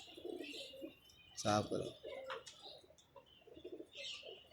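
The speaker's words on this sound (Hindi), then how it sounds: "ये कबूतर उस भाई के इकट्ठे किए हैं मैंने" Pigeons coo in soft repeated throaty phrases close by at a home pigeon loft, fairly quiet, with a brief burst of flapping wings near the middle and a voice speaking briefly over them.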